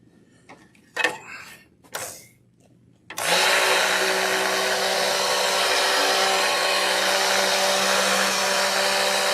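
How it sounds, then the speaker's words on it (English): Handheld blender mixing a sodium hydroxide lye solution starts after a few faint knocks and handling sounds, then runs as a loud, steady whine that holds continuously to the end. "Then I'm going to take my blender and I'm going to blend."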